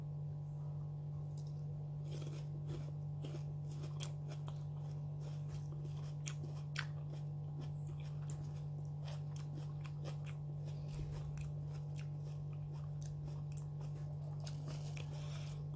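Someone chewing a chilled ripe persimmon, soft wet bites and squishy mastication repeating faintly and close up over a steady background hum.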